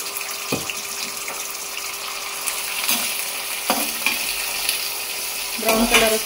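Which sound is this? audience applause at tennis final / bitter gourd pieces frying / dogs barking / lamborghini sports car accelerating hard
bitter gourd pieces frying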